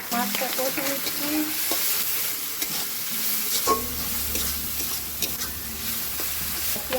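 Fish frying in a pan with turmeric, chili and cumin powder, a steady close sizzle with intermittent scraping and stirring strokes of a spatula throughout, no voices.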